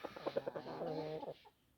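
Close, steady hen clucking and crooning in a continuous murmur for over a second, then trailing off into near silence.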